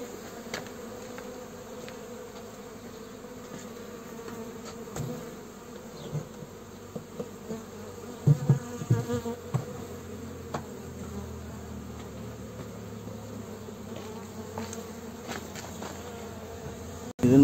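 Honeybees buzz steadily at low volume while frames are shaken out during the transfer of a colony from a Langstroth hive into a ten-frame horizontal hive, with occasional soft knocks and handling noises.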